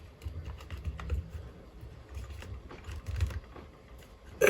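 Screws being driven tight to mount a Ring Video Doorbell Pro 2, close up, with a loose series of small clicks and scrapes over a low handling rumble and a sharper knock at the very end.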